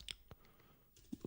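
A few quiet key presses on a computer keyboard, soft clicks spaced unevenly over about a second, close but faint.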